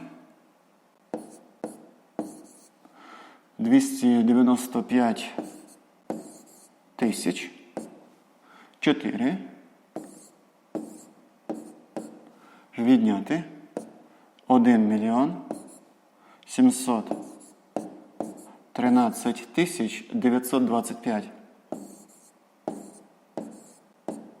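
Numbers are written out while a subtraction problem is solved, giving repeated scratchy writing strokes in short bursts, close and clear, alternating with a voice explaining the steps.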